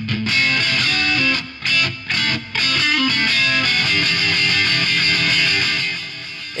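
Overdriven Telecaster electric guitar plays loud chords and riffs with a few brief gaps, bright and twangy with a gritty distorted edge.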